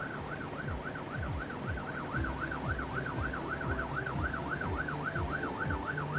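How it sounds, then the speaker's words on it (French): A fire truck's emergency siren wails in a rapid, regular up-and-down cycle, loud and continuous over low rumbling engine and traffic sounds, with no speech. "En cas d'urgence, le camion active la sirène."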